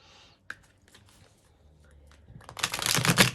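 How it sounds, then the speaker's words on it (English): Quiet scattered clicks and taps, then a rapid riffling patter of a new, stiff deck of playing cards being shuffled, growing louder over the last second. "It's not that flexible, so bear with me on the shuffling."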